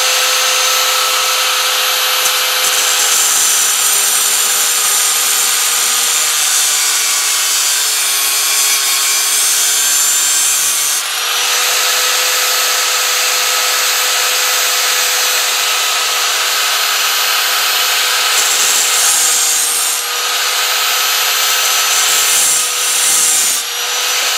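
A bandsaw blade is cut into sections, producing a loud, continuous high rasping whine that runs steadily throughout with only brief shifts in pitch.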